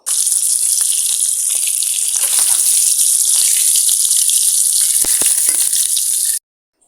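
Hilsa fish pieces frying in hot oil, a loud, close, continuous hiss and crackle that cuts off abruptly just before the end.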